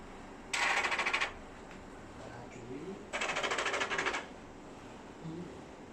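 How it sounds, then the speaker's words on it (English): An A4 inkjet printer runs a head cleaning cycle after ink is drawn out, giving two separate buzzing mechanical bursts about a second long each, with quieter whirring and clicks between them. "after suck out the ink, you must do the head cleaning again."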